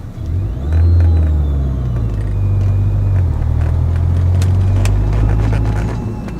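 Car engine accelerating on the road, heard from inside the vehicle, with a rising, steady mid-low roar that swells early and holds, carrying faint road and wind noise.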